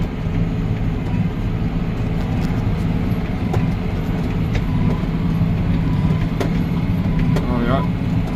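A steamer runs at night during a first-time steaming session. A steady, loud low rumble continues throughout, with occasional faint clicks and knocks over it.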